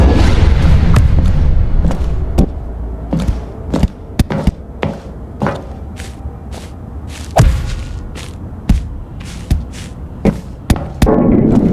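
A ball in Rocket League, played inside The Stanley Parable video game, gives loud, close thuds and bounces at irregular intervals over a low rumbling game background, with no talking.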